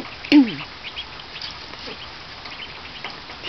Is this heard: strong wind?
no